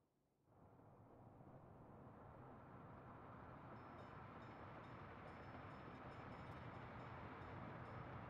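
A train rolling in within the Workers & Resources: Soviet Republic game, a steady broad rumble that swells in within the first second and holds loud and even to the end, with faint higher clatter toward the close.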